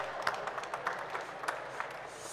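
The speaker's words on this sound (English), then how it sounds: "Let's give him a round of applause." Applause from an audience at a Bosch brand-store launch event, a fairly faint, steady patter of hand claps with a few sharper individual claps standing out across a couple of seconds.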